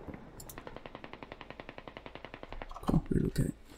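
Rapid automatic gunfire from a video game rattles in a fast, evenly spaced burst, followed by a few heavier explosive bangs near the end, fairly quiet overall.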